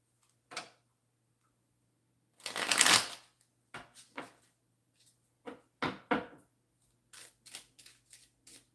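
Tarot cards shuffled in short close bursts, crisp riffling and flicking sounds separated by quiet gaps, with one longer shuffle early on and no speech.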